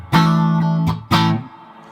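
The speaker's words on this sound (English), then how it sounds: "And then I put in the amp reverb." A guitar played through the amp reverb setting of an MXR M300 reverb pedal sounds two loud strummed chords. Each one rings out with a smooth reverb tail that fades into a brief, soft decay.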